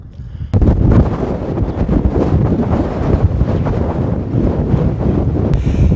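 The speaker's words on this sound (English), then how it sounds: "I always get nervous in winds like this." Strong, gusty wind roars and buffets the microphone continuously on Lake Shasta in January, with a faint wash of water underneath.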